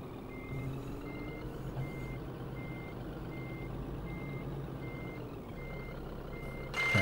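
A Scania truck in Scania Truck Driving Simulator backs up with steady, evenly spaced reversing beeps over a low, constant engine drone, ending with a brief hiss.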